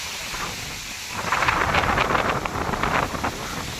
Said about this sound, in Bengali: জোরে ঝড় আসছে এই বৃষ্টি আসতেছে মানে এই বৃষ্টি হচ্ছে